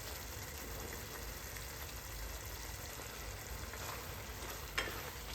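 Curry leaves sizzle in hot oil for a Kerala-style egg roast, a steady close frying hiss lasting throughout with a brief sharper crackle near the end.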